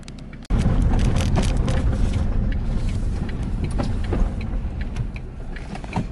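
A car drives along a rural road in The Catlins, New Zealand. Steady, loud engine and tyre noise starts abruptly and holds for several seconds from inside the vehicle.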